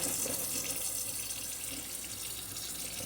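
Tap water runs steadily and close by for three seconds as hands are rinsed beneath it at a sink while hot peppers are being prepared for pickling.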